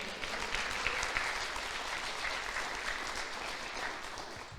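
A church congregation claps together in sustained, dense applause that fills the room evenly and steadily from start to finish.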